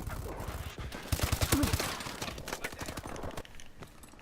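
Rapid bursts of automatic gunfire from the Call of Duty Advanced Warfare video game, clustered in a quick volley with a faint voice underneath.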